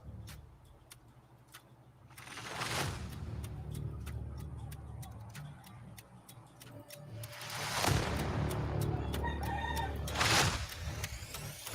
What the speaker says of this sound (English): I like the rooster.